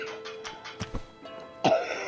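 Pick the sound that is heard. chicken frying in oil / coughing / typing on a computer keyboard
coughing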